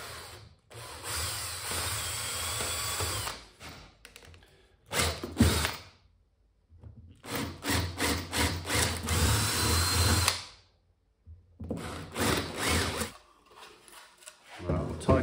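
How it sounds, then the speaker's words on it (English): A power drill boring 10 mm holes in a small base pad for a solar panel mount, in several loud whirring bursts separated by short pauses, with brief low speech in between. "I'm just going to drill out 10 mil holes"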